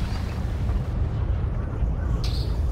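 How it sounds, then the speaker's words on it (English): Artillery bombardment in a Napoleon: Total War battle between Great Britain and Portugal, heard as a dense, continuous low rumble of cannon fire that rolls on without clear separate blasts. "So I'm just going to bombard them for a while"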